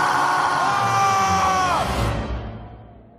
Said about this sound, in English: So anyone want to scream some more?